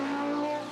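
Porsche GT1 race car, the number 45 car, passing at Le Mans, a short steady engine note held loud and close for under a second.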